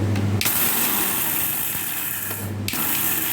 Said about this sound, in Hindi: चलिए अब इसे हम ग्राइंड करते हैं।